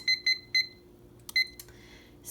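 A kitchen timer being set to 30 minutes gives a series of short, crisp electronic beeps, three evenly spaced then two more after a pause, close and clear over a quiet background with faint handling clicks.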